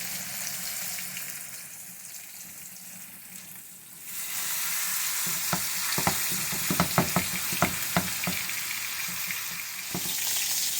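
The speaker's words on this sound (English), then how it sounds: "Take both of my roasts and right in that grease." Two beef roasts sear in hot grease in a very hot pan, giving a steady close sizzle that grows louder partway through and is broken by a cluster of sharp crackling pops.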